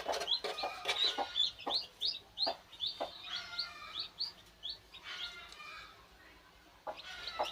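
A free-range hen clucks repeatedly in uneven bursts near a spot set out with water and feed, with chick-like chirps woven through and quieter gaps toward the end.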